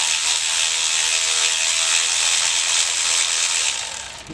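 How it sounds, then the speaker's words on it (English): A ratchet wrench works a long bolt out of a GM LS V8 engine during a truck cam swap, giving a steady, rapid, close metallic clicking that runs unbroken for about four seconds before easing off at the end. "But you gotta take out that long bolt out of there."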